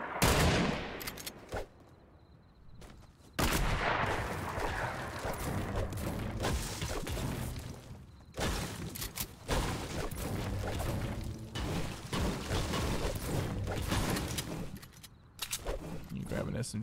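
Rapid SMG gunfire in a Fortnite Battle Royale match, bursts of shots crackling through most of the stretch with brief gaps, mixed with other game effects and voices talking over it.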